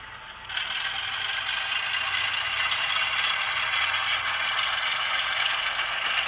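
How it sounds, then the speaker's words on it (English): A model train's DCC sound decoder releases its brake with a sudden, sustained hiss of air. It starts abruptly and holds at a steady, moderate level, with faint mechanical rattling underneath. "You can hear the brake come off."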